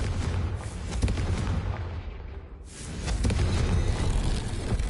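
Confringo blasting spell going off in the Hogwarts Legacy video game: a sustained, loud explosive roar with heavy low rumble that briefly fades midway, then surges back to full force without talk.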